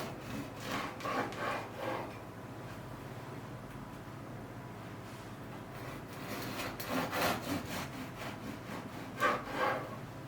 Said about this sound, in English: The bread is a nice temperature for slicing now.